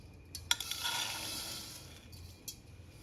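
Roasted semolina and wheat vermicelli scooped from a hot pan into a bowl: a couple of sharp scraping clicks over a soft, steady dry rustle, fairly quiet and close.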